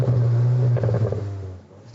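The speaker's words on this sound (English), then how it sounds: "the quad exhausts producing the kind of exhaust note you want to hear." A 2022 VW Arteon R with quad exhausts and 320 horsepower, its engine holding a steady deep drone before dropping off and fading as it eases away, close and loud, with someone talking over it.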